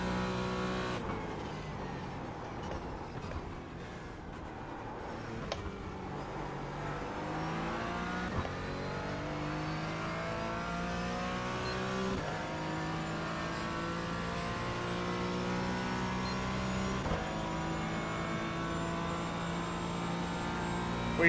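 Race cars in a NASCAR Cup Series race at Kansas roar steadily as they overtake, layered engine tones rising and falling in pitch at a constant loud level, with no voices.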